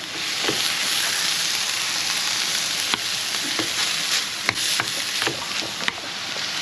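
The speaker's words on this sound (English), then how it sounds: "I'm going to throw in the onion and mushroom, give it a quick fry" Bacon, onion and mushroom sizzling loudly in a frying pan, a dense continuous hiss broken by occasional clicks and scrapes of stirring.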